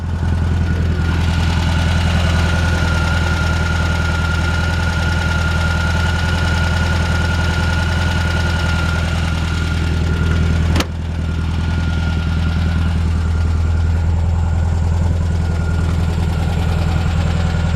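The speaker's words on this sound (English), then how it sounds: "This little engine runs great." A 1978 VW Super Beetle convertible engine idles steadily close by, a loud, even air-cooled rumble with a persistent knocking throb and a brief click partway through, with no talking.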